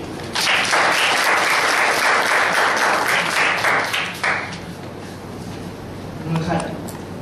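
A church congregation bursts into sustained applause, loud and dense for several seconds before thinning out, with a voice speaking over the tail end.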